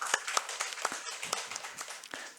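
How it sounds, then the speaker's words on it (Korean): A church congregation claps in encouragement for volunteers during a Sunday service, a faint, loose patter of scattered hand claps with uneven rhythm. "우리 격려 박수 하겠습니다."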